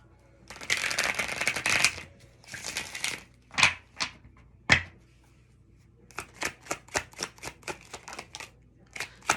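A Star Power Tarot card deck being shuffled close up: two long riffling bursts, then a few sharp slaps and a run of quick, evenly spaced card snaps, with no talking.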